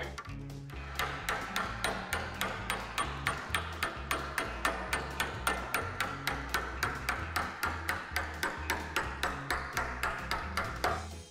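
Rapid, steady metallic hammer blows ring out close and loud, dozens of sharp strikes in an even rhythm with a clanging, bright tone, as sheet metal is hammered over a hammer form to shrink a curved flange.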